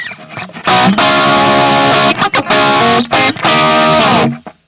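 Heavily distorted electric guitar chords chug through an Axe-Fx III amp simulator with a 1970s Marshall 4x12 Greenback cab and a 57 mic, loud and saturated, with short choppy breaks between bursts and a brief ringing tail.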